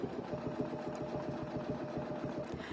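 A sewing machine stitching a crosshatch quilting line, its needle running in a steady fast rhythmic chatter with a low motor hum, faint and close, with no voices.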